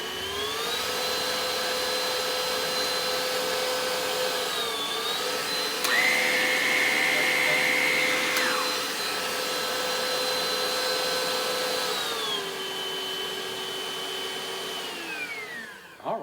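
Hoover Evolve Pet cordless vacuum cleaner whining steadily, its motor pitch stepping up sharply for a couple of seconds as it moves onto carpet, then settling back and winding down at the end, close and alone.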